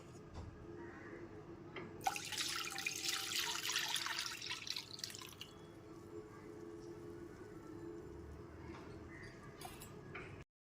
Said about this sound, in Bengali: এর মধ্যে পাঁচশো এম লিকুইড দুধ দিয়ে দিচ্ছি